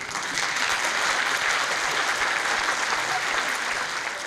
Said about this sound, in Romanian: Aplaudați istoria, pentru că face parte din noi.